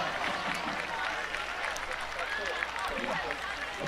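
A crowd at a varsity football game between Stevenson and Wheaton North applauds from a distance, a diffuse wash of clapping beneath an announcer's voice.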